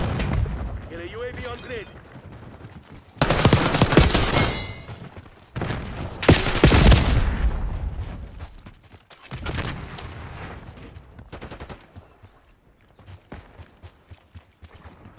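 Bursts of loud gunfire in the Black Ops 6 shooter, several heavy volleys in short clusters with quieter gaps between, while radio-style voices speak.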